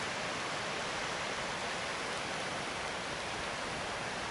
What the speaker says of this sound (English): How nice that creek is, Baldwin Creek.